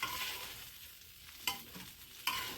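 Brinjal slices fry in a pan with a soft continuous sizzle, broken by two sharp scrapes of a spatula stirring them, close up and with no talking.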